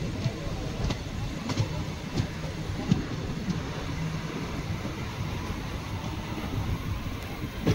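Steady rumble of the Mannai Express, a Southern Railway express running from Mannargudi toward Chennai Egmore on ICF coaches, heard from inside as a constant low roar with faint rhythmic wheel clacks throughout.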